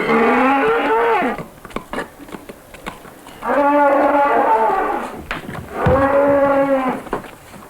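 Cows moo loudly and close by in three long, drawn-out calls separated by short pauses, with no talk between them.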